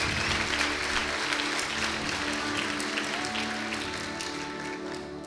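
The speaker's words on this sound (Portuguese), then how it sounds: "Aplaudam o Senhor." Church congregation clapping in praise during a worship service, a full, continuous patter of many hands with a faint tonal hum beneath, holding steady and easing slightly toward the close.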